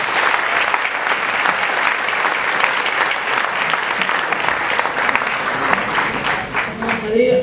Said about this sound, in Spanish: Aplaudimos a Vicky.